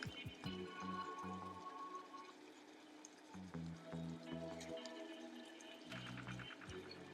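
Almond and coconut milk powder is stirred into a paste with onion water for a shahi chicken korma, making soft, wet, squishy scraping strokes in a steady rhythm, quiet and close.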